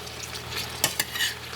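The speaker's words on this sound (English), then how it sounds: "And you just want to make sure you just keep stirring." A spoon stirs aloe oil boiling in a pot, making soft sizzling and bubbling with two sharp scraping clinks against the pot near the middle of the brief stretch.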